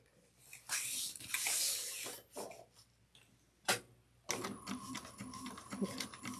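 A sewing machine top stitches a bag at 1/8 inch, its rapid mechanical stitching running in short bursts at close range with pauses and some handling noise between runs.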